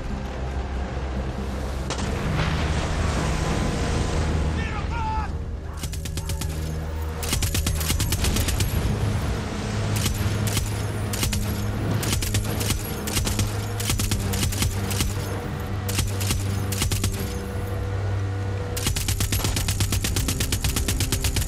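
Mounted turret gunfire in the video game Far Cry 6: long, loud bursts of rapid automatic fire with booming impacts and explosions, nearly continuous with a brief lull partway through, no voices.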